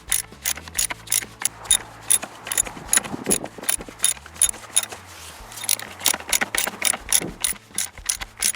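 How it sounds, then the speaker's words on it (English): Ratchet wrench clicking steadily as a car battery bolt is tightened clockwise on a 2011-2013 Chrysler Town & Country, a close, rapid run of sharp pawl clicks in quick bursts with no talk. "Then I install my bolt by turning clockwise."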